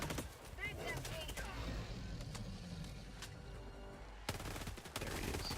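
Scattered bursts of video game gunfire aimed at an enemy's leg, sharp shots and short volleys over a dense rumbling battle background, moderately distant.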